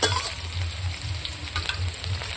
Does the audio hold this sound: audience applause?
no